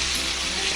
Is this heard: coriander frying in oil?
yes